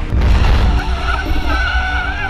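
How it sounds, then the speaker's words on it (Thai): A car brakes hard and its tires skid, a loud, sustained screech with engine rumble underneath, close and continuous for a couple of seconds before easing slightly. "จังหวะที่คืนมาเนี่ยผมจะเบรกหนักกว่าเดิมความเร็วมันจะลดลงมาแล้วถึงจะเลี้ยว"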